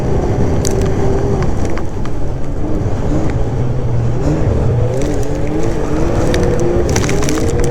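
An old Ski-Doo Edge 800 snowmobile with reworked clutch being ridden hard through slush, its two-stroke engine a loud continuous near drone with shifting pitch as it revs, no talk.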